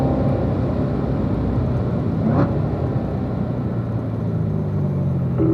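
A car circuit-driving on a race track in 4th gear, its engine giving a steady loud rumbling drone with constant road and wind noise throughout, no voices over it.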